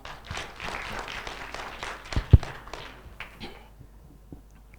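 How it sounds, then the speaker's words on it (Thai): Scattered applause from a small lecture audience, individual claps audible, with a sharp loud clap midway, then fading out toward the end. "ขอปรบมือให้พี่ประเทืองอีกครั้งหนึ่งครับ"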